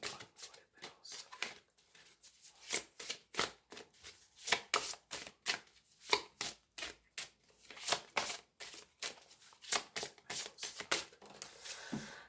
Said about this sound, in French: on va remettre les cartes et on va voir avec le petit Lenormand ce que ça donne